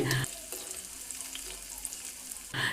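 Sliced onion and curry leaves frying in hot oil for Hyderabadi dahi kadhi, a steady soft sizzle with a louder burst of spattering at the start and end, no voices.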